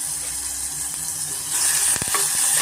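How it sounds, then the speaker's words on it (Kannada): Green chili paste fries in hot oil on a medium flame with split chickpeas for a banana stem kootu. The sizzle is steady and close, swells louder partway through, and a couple of stirring scrapes come in. Nobody speaks. "ಮೀಡಿಯಂ ಫ್ಲೇಮಲ್ಲೇ ನಾವು ಫ್ರೈ ಮಾಡ್ಕೊಳ್ಳೋಣ"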